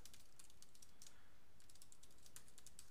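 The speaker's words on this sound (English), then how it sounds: "and then you type in the text" Quiet, close typing on a computer keyboard while entering link text in HTML: a rapid, uneven patter of light key clicks continues for a few seconds with no talking.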